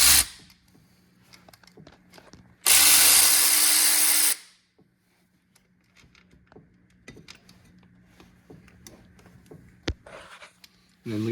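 Brief loud burst of a power tool spinning out engine bolts on a B-series engine during camshaft seal work, a dense whirring blast lasting about two seconds between quieter clicks and handling noises.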